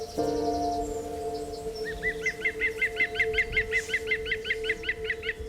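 A European green woodpecker gives its laughing yaffle call in a British hay meadow, a rapid run of loud, ringing notes repeated in a steady rhythm over a sustained low tone.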